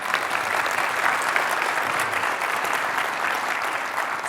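An audience at an American Red Cross awards lunch applauds steadily after an operatic performance, a moderate, even wash of many hands clapping throughout.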